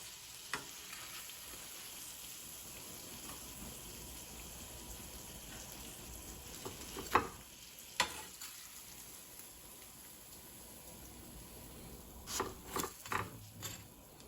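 Donuts fry in hot oil with a quiet, steady sizzle and bubbling, broken near the middle and end by a few louder clinks and scrapes of a utensil; nobody talks.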